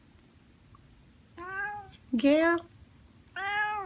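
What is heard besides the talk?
cat meowing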